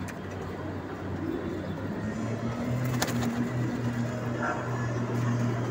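Pigeons coo inside an enclosed loft, where newly introduced birds meet the older residents; low, steady cooing rolls continuously at moderate loudness with a brief sharper noise midway.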